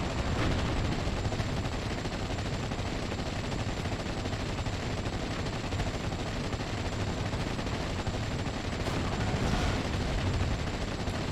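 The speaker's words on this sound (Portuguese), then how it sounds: "É o tiro do tanque, o tiro da MG em cima e o canhão." Tank cannon fire and machine-gun bursts from the WWII strategy game Steel Division: Normandy 44, a dense continuous clatter of gunfire and distant booms under a busy battle din, with no speech.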